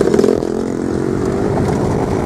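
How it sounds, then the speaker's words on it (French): A motorcycle drones loudly and steadily close by on a small country path, its engine note holding level for a couple of seconds with no talk over it. "une moto,"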